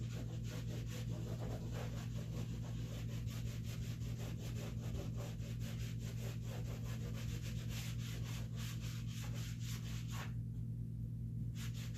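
Steady rubbing of sandpaper over a dried drywall patch, smoothing joint compound where the mud meets textured, painted wall; continuous close back-and-forth scraping strokes with a constant low hum behind, stopping briefly near the end.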